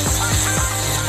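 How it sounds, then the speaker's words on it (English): A thin drill grinds through lock cylinders in a steady, close buzzing rasp, with brief rhythmic dips as the bit catches, heard alone. "let's take a thin drill and start sawing the cylinders"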